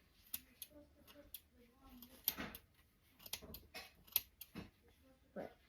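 Small scissors snip stray needle-felted wool off a handmade felt Christmas tree, a run of quick, crisp close-up clicks scattered unevenly, fairly quiet overall with a few sharper cuts standing out.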